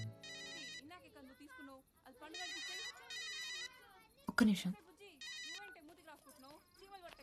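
A phone ringtone plays a repeating electronic melody in short bursts while someone speaks briefly over it, with a sudden clatter in the middle.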